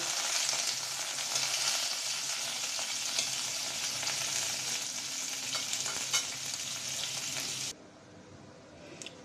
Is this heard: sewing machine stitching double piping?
no